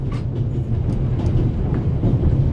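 A train rolls along in a video game set on a journey toward Venice, a steady low rumble with faint rhythmic rattling of the carriages, heard alone without talking.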